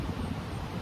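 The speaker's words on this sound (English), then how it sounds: "It's pretty windy right now." Wind blowing outdoors buffets the microphone with a steady low rumble lasting under a second, loud and unbroken, with no other distinct sounds.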